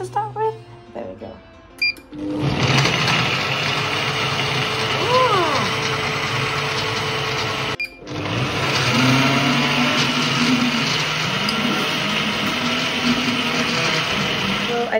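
A Kenwood blender runs steadily at speed 2, whirring loudly as it blends a blueberry smoothie, cutting out briefly partway through before resuming its constant drone.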